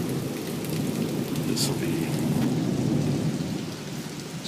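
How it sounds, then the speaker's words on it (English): A severe morning thunderstorm: steady heavy rain pours loud and close while thunder rumbles beneath it, with a voice speaking briefly over the downpour. "The storm's getting more and more severe."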